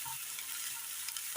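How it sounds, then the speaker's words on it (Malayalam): Onion dry-sautéing in a pan with no oil gives a steady, soft frying hiss throughout, with a brief clink near the end. "സബോള ഇട്ട് കൊടുക്കാം. ഒന്ന് വാട്ടിയെടുക്കാം. എണ്ണ ഒഴിക്കാതെ തന്നെ വാട്ടിയെടുക്കാവുന്നതാണ്."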